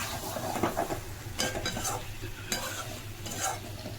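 Potato curry (aloo dum) sautés in a pan, with a soft continuous sizzle broken by several scraping stirs of a spoon against the metal, heard close with no talking.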